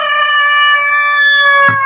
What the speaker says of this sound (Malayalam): കോഴിച്ചാണ് നല്ല കൂവല്.